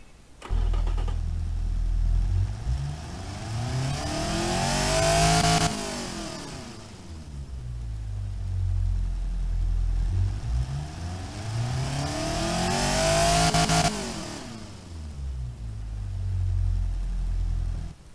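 A 161-horsepower car engine in the video game Automation revs up twice, climbing to a high-pitched whine and dropping back each time, loud and continuous with no talking.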